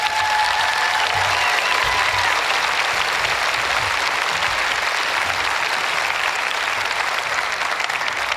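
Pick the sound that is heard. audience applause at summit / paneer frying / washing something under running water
audience applause at summit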